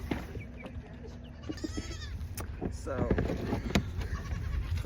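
Goats on a farm bleating, several wavering bleats close by over low background noise, with a person speaking briefly.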